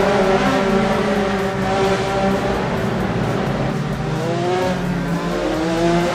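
Race cars in an Indianapolis 500 racing simulation game, several engines droning together at steady high revs with shifting tones, continuous and loud.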